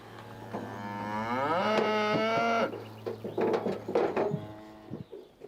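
Cattle on a farm during pregnancy scanning: one cow lets out a loud, drawn-out moo of more than two seconds, followed by quieter shuffling and a few short animal sounds.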